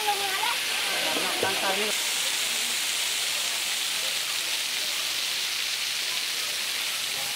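Sai Yok waterfall in Kanchanaburi, Thailand, roars as a steady broadband rush of falling water, close and continuous, with someone speaking briefly over it at the start.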